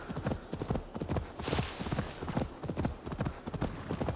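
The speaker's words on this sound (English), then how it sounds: "Venga, caballo. Apúrate que hoy no tenemos todo el día." Horse hooves clip-clop steadily in Assassin's Creed Valhalla, a quick regular gallop of close, distinct beats throughout with a brief rushing swell midway.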